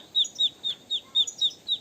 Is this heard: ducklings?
yes